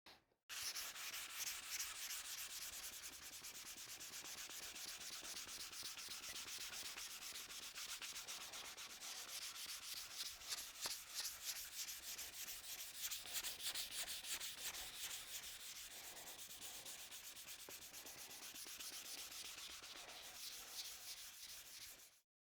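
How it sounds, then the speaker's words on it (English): A grain-filled guitar body is sanded by hand with 400 grit paper on a flat block, producing steady, close, rhythmic rasping strokes that continue without pause for the whole stretch, with no voices. "the next step is to grab our 400 grit like we had talked about, use our flat block, and sand all this down"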